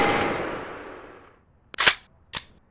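A video game gun fired in two short bursts after switching to full auto, sharp and loud against a quiet background, following a fading noisy tail.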